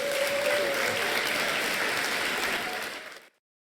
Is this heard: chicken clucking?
no